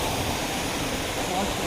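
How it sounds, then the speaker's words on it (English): Eaton Canyon waterfall roars as a dense, unbroken wash of rushing water, close and steady, with voices faintly present beneath it. "We made it to the waterfall."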